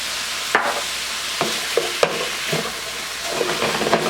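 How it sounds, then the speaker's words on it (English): Peppers, onions and garlic sizzle in a hot pan for Thai basil beef, an even close hiss broken by several sharp scraping stirs of a utensil, with no voices. "I'm going to add our peppers and onions in here and let them join the party. Stir that up really good."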